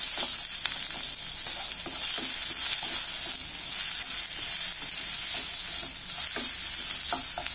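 Onions and capsicum sauté in a hot pan: a steady, bright sizzle of frying, with soft scrapes from occasional stirring and no talking.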